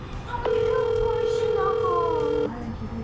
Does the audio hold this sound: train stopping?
no